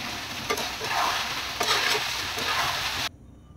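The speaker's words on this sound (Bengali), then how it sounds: "আরও 2 মিনিট আমি নেড়ে নেবো খুব ভালো করে" Chicken curry frying in a pan is stirred continuously, with a loud, close, dense sizzle and scraping strokes that stop abruptly near the end.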